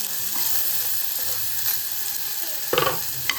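Food frying in a pan on a home stove, a steady close sizzle with a few sharp scrape-and-stir bursts near the end, no voices.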